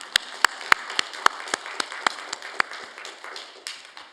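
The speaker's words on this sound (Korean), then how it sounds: "우리 큰 박수로 격려해 주시겠습니다" Sparse applause from a church congregation during a Sunday worship service, a handful of distinct sharp claps at first, then thinning into scattered, softer clapping.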